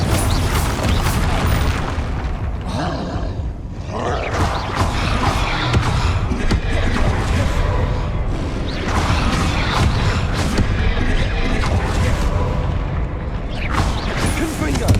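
Confringo blasting spells go off again and again during Hogwarts Legacy combat, a dense, loud run of booms and crackling impacts with hardly a pause across the whole stretch.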